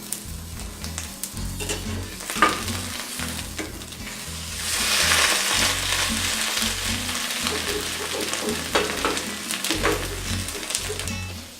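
An omelette sizzles steadily in a hot frying pan, with a constant crackling hiss that swells for a few seconds mid-clip and soft clinks and low thumps of handling scattered throughout, no one talking.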